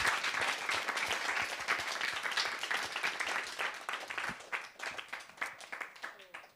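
Festival jury members at a final vote applaud one another, a warm burst of close clapping from a small group that thins into scattered individual claps toward the end, with voices murmuring underneath.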